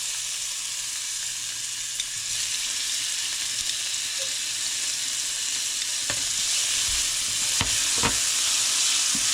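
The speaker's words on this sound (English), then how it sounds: "Okay, oil. I'm going to put garlic in." Garlic fries in hot oil in a pan for shrimp pad thai, a steady close sizzle with a few sharp stirring scrapes and taps toward the end; no voices.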